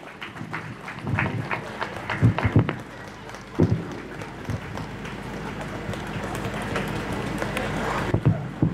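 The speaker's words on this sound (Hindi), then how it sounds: "please standing ovation for them" Standing ovation from the gathering at a foundation day celebration of a social welfare and cultural organisation in East Kameng, a moderate, uneven patter of clapping with louder bursts and some voices mixed in.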